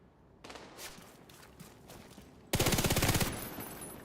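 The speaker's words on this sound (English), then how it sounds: "Yeah, I am getting shot." Rapid automatic gunfire in The Division 2 as the player character takes hits, scattered bursts at first, then a loud dense rattling volley that fades slightly toward the end, with no talking.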